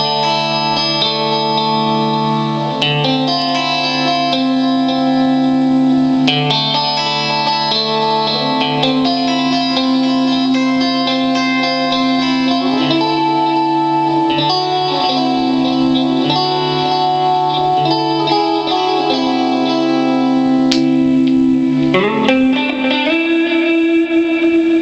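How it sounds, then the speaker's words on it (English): Guitar played through a Mesa Boogie Road King II amp with an old Alesis MIDIverb 4 in the effects loop, adding light reverb and delay; sustained chords ring out with echoing tails, loud and steady, with no talking. "inside this loop is a very old Alesis MIDI Burb 4 with a little bit of reverb and delay"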